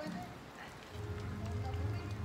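Rain falls steadily outdoors during Halloween trick-or-treating, a dense, continuous hiss and patter with low rumbling underneath that grows a little heavier partway through.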